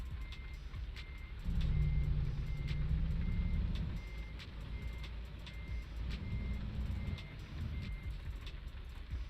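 Reversing beeps from a heavy truck backing up in American Truck Simulator, a steady run of evenly spaced high beeps over a low diesel engine rumble that swells briefly as the truck moves, heard alone without talk.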